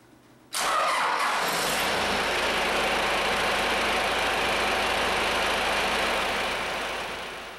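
An engine on a throttle-controlled pumping setup fires up abruptly and settles into a steady, loud running drone that holds to the end, fading slightly in the last moment.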